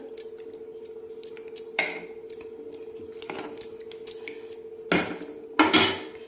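A leftover bhakri breakfast mixture is stirred gently in a pan, giving soft scraping and occasional utensil clinks against the pan over a steady low hum, with louder scrapes near the end.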